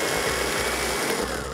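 A blender grinds pesto ingredients for pasta, a loud continuous motor whir with slight dips in pitch as the blades work through the mix, heard alone without talk.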